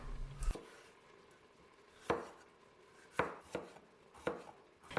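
Knife strokes cut through bell peppers on a board, five or six sharp, separate chops at an uneven pace, close and fairly loud, with quiet pauses between them.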